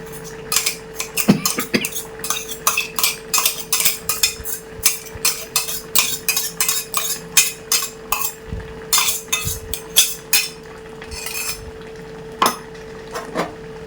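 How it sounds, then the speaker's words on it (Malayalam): A ladle's stick stirs jackfruit aviyal with coconut and curry leaves in a pot, giving a long run of soft, regular scraping clinks against the vessel, close and steady with no voices. "ഇപ്പോൾ തവിയുടെ ഈ സ്റ്റിക്ക് കൊണ്ട് ഇളക്കിയാൽ ഉടയാതെ കിട്ടും."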